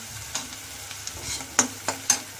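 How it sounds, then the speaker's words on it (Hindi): Vegetable filling for veg momos being stir-fried in a pan, a soft sizzle with a few sharp scraping strokes of the spoon near the end, close and with nobody speaking. "इसको चलाएंगे। तो हल्का सा फ्राई करना है।"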